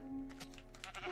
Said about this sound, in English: Oh, you don't have to kill the sheep.